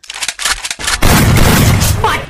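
Gunfire in the video game Free Fire, a few quick sharp shots followed by a loud, sustained burst of rapid fire that fills the rest of the moment, close and dense.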